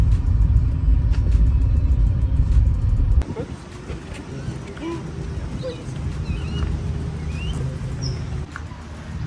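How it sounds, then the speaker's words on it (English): Heavy traffic of many cars gives a loud, dense low rumble that suddenly cuts to a quieter background after about three seconds, with birds chirping and faint voices in the calmer remainder. "Wow, that's getting lots of cars."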